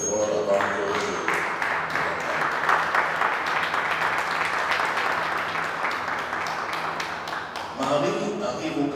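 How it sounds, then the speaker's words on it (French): Audience at a prize ceremony at the Yaoundé youth book and comics fair applauding loudly, a dense sustained wash of clapping that tapers off near the end as a voice begins to speak. "je vais demander à la salle d'applaudir très très fort"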